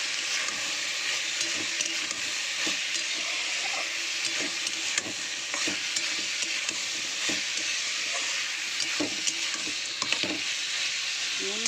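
Green chillies frying and being stirred in a pan, a steady close sizzle with repeated spatula scrapes and clicks throughout.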